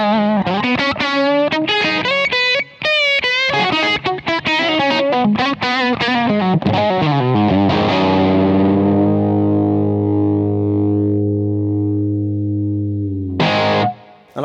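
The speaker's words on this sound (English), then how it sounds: "It's got the spongy bounce, that very unique Dumble Overdrive kind of sound." Electric guitar played through a DSM & Humboldt Dumblifier Dumble-style overdrive, a run of quick, warmly distorted notes and chords that ends on a long ringing chord fading out, followed by a short final strum.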